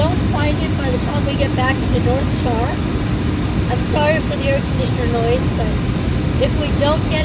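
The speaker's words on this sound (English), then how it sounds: "I'm sorry for the air conditioner noise" Air conditioner blowing a constant broadband whoosh inside a moving car, with road rumble beneath and a voice talking continuously over it.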